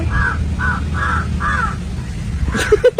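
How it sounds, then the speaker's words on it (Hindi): A crow caws four times in a steady rhythm, fairly close, over a low rumble of wind, followed by a few sharper, clipped calls at the end. "कौवा"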